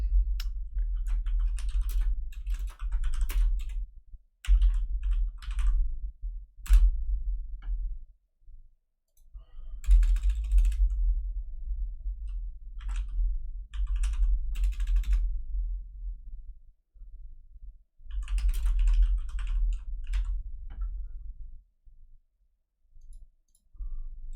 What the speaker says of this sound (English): I'm just typing out player names right now anyway.